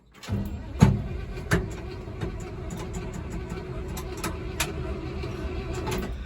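An old truck engine cranks and fires up, with sharp clacks and knocks at first that settle into a steady running rumble nearby.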